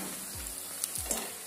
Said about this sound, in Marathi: बाकीचे वडे ही अशाच प्रकारे तळून घेते.